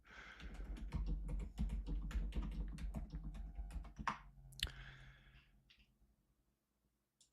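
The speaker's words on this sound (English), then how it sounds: "maybe getting a new keyboard was not such a good idea" Rapid clicking keystrokes on a new computer keyboard, loud and near, a dense run of clacks that thins out and fades toward the end, with some breathing.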